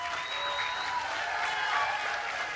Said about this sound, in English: let's give Maye a round of applause